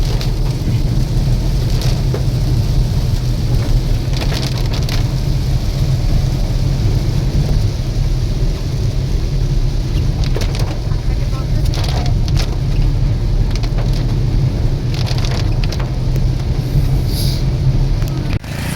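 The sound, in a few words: heavy rain with thunder during drive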